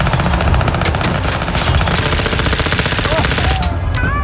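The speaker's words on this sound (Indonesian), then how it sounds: "memberondong polisi dengan senjata otomatisnya" Automatic weapon fire in a bank-robbery standoff with police in an Indonesian film, a dense, continuous rattle of shots filling the whole stretch at close, loud level, with faint voices beneath.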